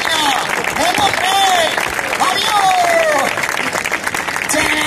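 Street audience applauding a street performer, a dense, steady burst of clapping with cheers and shouts mixed in, while a performer talks over the crowd.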